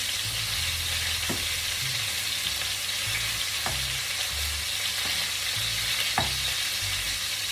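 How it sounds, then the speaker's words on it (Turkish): Steady hot-oil sizzle and crackle throughout as onion and garlic fry, loud and close, with occasional sharp pops of splattering oil and a low clatter of stirring now and then. "Dikkat edin yağlar fena sıçrıyor."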